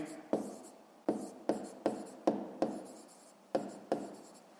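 A pen writes by hand on paper while a math exercise is worked out, giving a series of about nine crisp strokes and taps at uneven intervals, close and fairly quiet.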